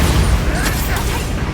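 Spell explosions from Bombarda and Confringo in the Hogwarts Legacy video game: loud, dense booming blasts with crackling bursts that run continuously through the moment.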